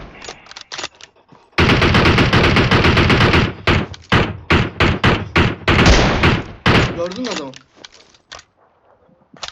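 Gunfire in the video game PUBG Mobile: loud sustained automatic bursts and rapid single shots in close succession, with a voice speaking over parts of it.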